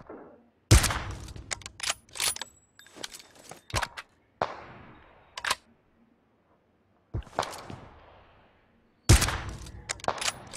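Gunfire in the PUBG video game comes as sharp, loud bursts of shots in irregular clusters, separated by brief silences, with no talking.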